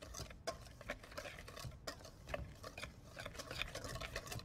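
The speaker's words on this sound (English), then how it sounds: "So I'm gonna whisk that together." Dry muffin ingredients, with salt and baking soda, whisked in a bowl, giving a steady run of quick, light scraping and clicking strokes at close range with no talking.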